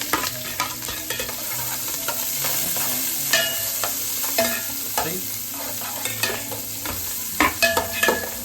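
Onions and green chillies fry in hot oil in a pan for homemade pulao rice, giving a steady sizzle with scraping stirs and clinks from the utensil throughout.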